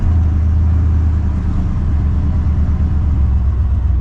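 The engine of a 1998 Chevrolet Silverado pickup running after maintenance work, a loud, steady low rumble close by for the whole stretch, with no voices over it.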